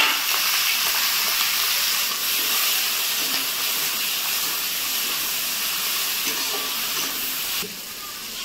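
Dried chilli and mustard seeds sizzle in hot oil for a Bengali karamcha and prawn chutney, a loud, dense, continuous hiss close to the pan that briefly dips near the end.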